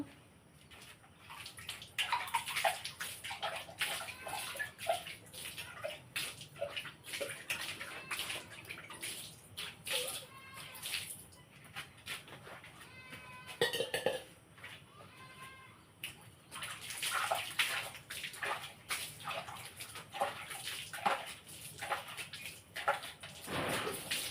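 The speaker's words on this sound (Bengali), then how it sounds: "এবার মুরগানটাকে সুন্দর করে ধুয়ে নেব।" Raw chicken being washed by hand in water, with continuous splashing and sloshing, brief drips and trickles, moderately close, no talk.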